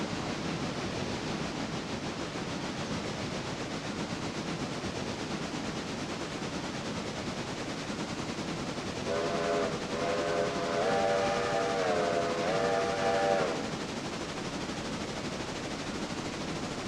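A passenger train runs in the railroad video game Railroader, with a steady rolling rumble throughout and a series of whistle blasts sounding for a few seconds midway.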